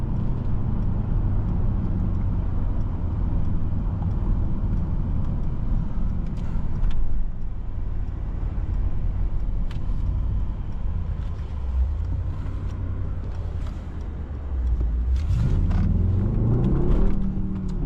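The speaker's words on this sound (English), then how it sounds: "I love the pops from the exhaust." A 2024 Mercedes-AMG GLS 63 drives under load, its engine and exhaust droning as a steady loud rumble, with a few sharp pops and a rising surge near the end as it accelerates.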